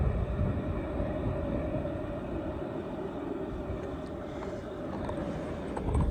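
A fast, heavy freight coal train with distributed power units rushes past nearby, northbound between Carlisle and Middletown, a steady broad roar and rumble with rattling wagons that holds at an even level throughout.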